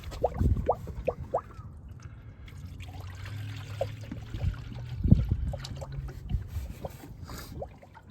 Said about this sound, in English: All the little gurgling bubbles, that's the coolant pushing out the air.